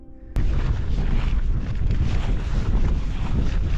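Strong wind buffets the microphone on an exposed Lake District fell top above Crummock Water, near Grasmoor, a loud, continuous roar of gusts starting abruptly and rumbling on without a break.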